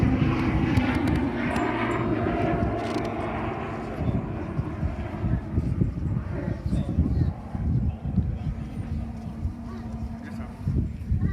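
A turboprop Tucano trainer drones past during a 2019 display at Southport Airshow while rolling slowly, its engine a loud, sustained roar that slowly shifts and fades; a commentator's voice runs over it.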